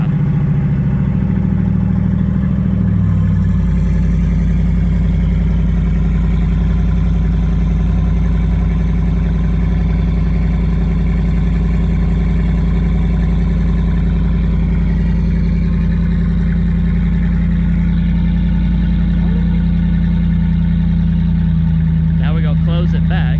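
Loud, steady V8 burble from a RAM 1500 Hemi truck idling with the exhaust cutout open through a Borla exhaust, a deep throbbing rumble that dips slightly early on and holds, with a voice talking over it near the end.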